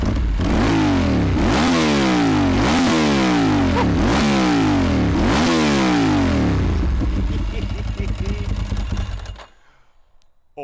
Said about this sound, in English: let's see what these exhausts sound like